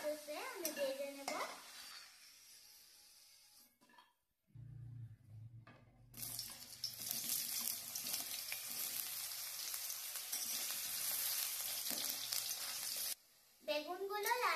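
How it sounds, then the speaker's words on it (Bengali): Aubergine fries in hot oil in a wok. After a quiet start with a brief voice, a loud, dense sizzle and the scrape of stirring fill the middle of the clip, then cut off near the end. "নামিয়ে বেগুনটাকেও সেম প্রসেসে আমি ভেজে নেব।"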